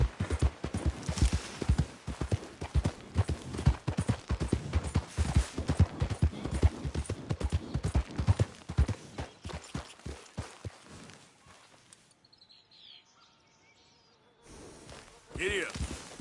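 Horse hooves clip-clop in quick, steady rhythm while riding in Red Dead Redemption 2, loud and close for about twelve seconds, then fading to quiet ambience with a few faint sounds near the end.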